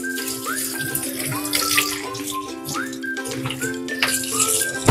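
Ampalaya (bitter melon) being washed by hand with water after salting, a close wet sloshing and rattling under a steady faucet stream, with no talk.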